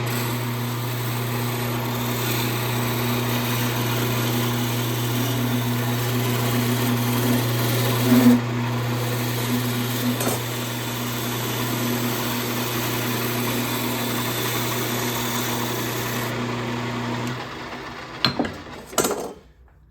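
A lathe turning a wood table leg hums loudly and steadily while a sharp skew chisel cuts, the motor whine dominating until it spins down near the end, followed by a few knocks.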